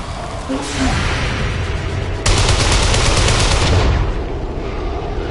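Combat gunfire in the video game XCOM 2: a sustained, loud burst of rapid automatic shots that swells sharply midway, joined by whooshing, then tails off into a hiss.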